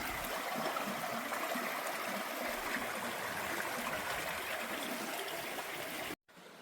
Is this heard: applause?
no